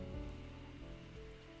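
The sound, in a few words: rain in the video game Necrobarista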